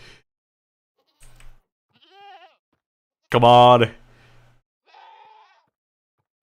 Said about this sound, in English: We actually got a screaming goat around here.